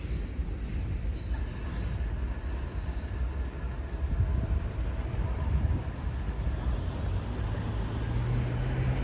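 A freight train, M60304, rolls past ending with a TTX yellow boxcar: a steady, dense rumble of wheels on rail that holds level for the whole stretch, close and continuous with no talk.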